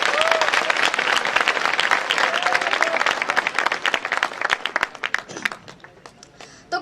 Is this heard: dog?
no